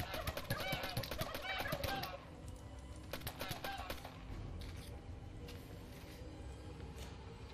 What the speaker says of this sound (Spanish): Que vienen los pavos asesinos.